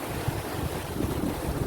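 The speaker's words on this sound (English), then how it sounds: "I don't know if you can hear me over all the noise of this water coming in" Water rushes in through a channel in the village of Congomah, Mauritius, a loud, steady roar of turbulent flow with gusty, rumbling wind buffeting the microphone throughout.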